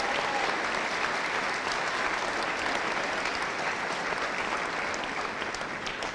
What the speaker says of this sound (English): please give him a round of applause for working so hard for your children.